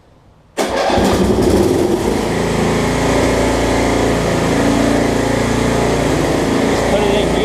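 A Snapper RER riding lawn mower engine catches abruptly and then runs loud and close with a steady, unbroken drone while the machine is put in gear.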